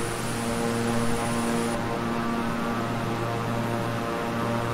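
Twin-engine King Air 350i propeller aircraft in Microsoft Flight Simulator, a steady loud engine drone with constant tonal hum throughout, no talking.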